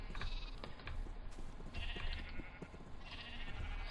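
Sheep bleat several times over a rough, noisy background, their calls fairly faint and somewhat distant.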